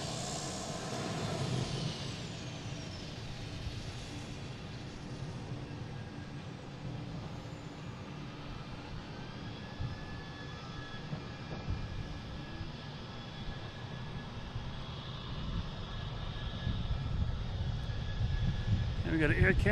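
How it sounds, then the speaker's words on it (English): A Cape Air plane takes off at Boston Logan International Airport, its engine roar distant and faint at first, then building steadily louder toward the end. "We got a Cape Air taking off"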